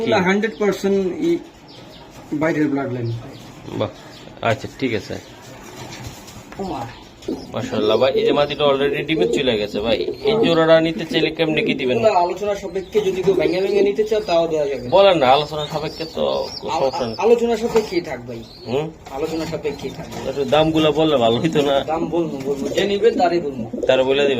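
Racing pigeons coo softly in a loft, their low calls running under steady conversation between men that carries through the whole stretch.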